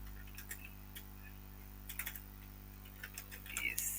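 Fingers tapping keys on a computer keyboard, a few quiet scattered clicks followed by a brief cluster of keystrokes, faint against a low steady hum.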